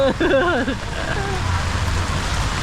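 Heavy rain falling in Samut Sakhon, Thailand, a dense steady hiss of rain on surfaces, with a voice briefly speaking at the start over the downpour.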